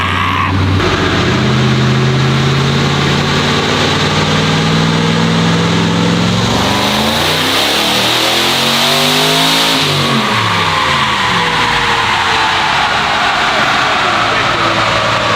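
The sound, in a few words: twin-turbo Ram TRX 1500HP engine revving on dyno, E85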